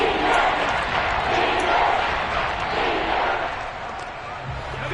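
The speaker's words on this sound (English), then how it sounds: "The crowd getting into it as we come up on a big third down" Football stadium crowd roaring steadily ahead of a big third down, a dense, loud wash of cheering and shouting that swells and eases slightly over several seconds.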